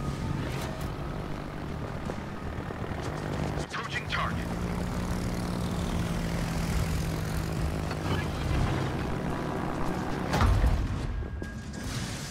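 A propeller fighter aircraft taking off from the aircraft carrier Essex in a naval video game, a continuous droning engine roar with rising and falling tones and a few clanks, heard under game voices.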